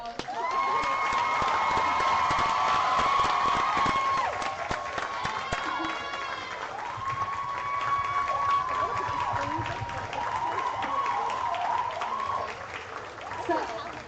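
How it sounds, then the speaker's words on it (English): Applause from an audience at a youth pitch competition: a dense, steady wash of clapping that runs the whole time, with cheering and whistling voices rising over it and easing slightly toward the end. "So can we please get a round of applause?"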